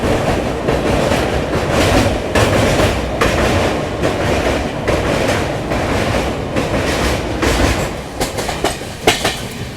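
Inside a 3E coach of the Champaran Satyagrah Express running past Shahjahanpur Junction, a loud, steady rumble carries repeated clickety-clack wheel beats over rail joints, with sharper clatters near the end.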